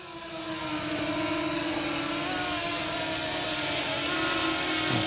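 Fimi mini v2 drone spinning up for auto takeoff, a steady loud whirring hum with a high motor whine that holds evenly throughout, no voices.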